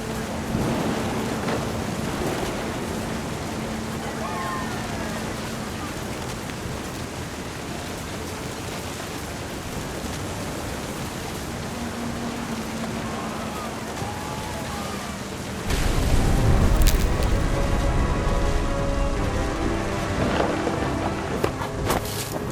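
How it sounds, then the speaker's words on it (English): Thunderstorm in the video game What Remains of Edith Finch: steady heavy rain hisses throughout while deep thunder rumbles roll in, swelling into a louder, closer crash of thunder near the end. "The thunder sounded much too close and full of angry power."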